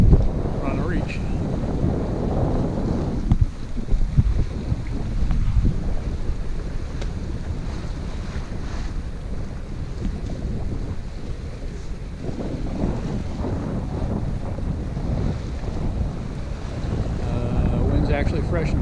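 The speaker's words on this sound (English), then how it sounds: "It wasn't supposed to be this breezy, so we're glad for it" Strong, freshening wind buffets a sailboat on a reach across Green Bay, roaring steadily against the microphone with gusty rumble and water wash beneath throughout.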